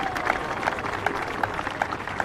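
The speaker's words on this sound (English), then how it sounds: "Certainly, they deserve a rousing round of applause." Crowd on a police college parade ground gives a round of applause, a steady patter of clapping heard at moderate distance with a faint tone running beneath and a few louder clap accents.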